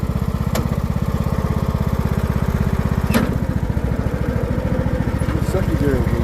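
John Deere LA100 riding mower engine runs in gear with a steady, rapid, loud putter close by. A few sharp clicks and clunks sound briefly over it.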